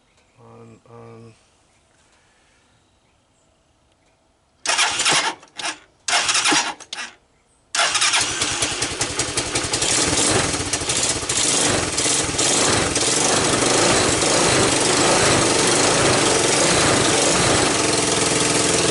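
A Tao Tao Rhino 250 with the choke on cranks in several short bursts, catches and settles into a loud, steady, buzzing idle that runs on close to the microphone, after a brief quiet voice at the start.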